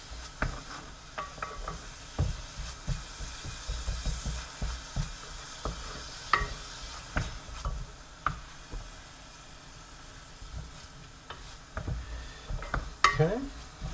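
Garlic and onions frying in a pan for a basic tomato sauce, a soft low sizzle under a scatter of spoon scrapes and light knocks against the pan, fairly quiet and with no talk.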